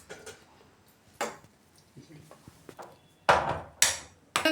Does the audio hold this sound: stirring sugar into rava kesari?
yes